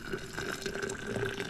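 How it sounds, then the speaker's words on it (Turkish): Freshly brewed tea pours steadily into a thermos at a camp by the beach in Çeşme, a short close liquid splash and trickle with no talk. "Çay demlenince çayı da termosun içine ilave ediyoruz."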